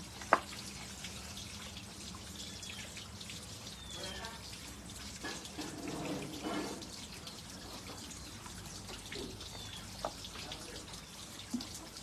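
Water trickles and splashes faintly into a container, with soft drips and rustling handling sounds at low level.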